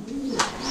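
Pigeons for sale coo softly in a short, low, throaty burst, with a faint flutter partway through, heard alone without talk.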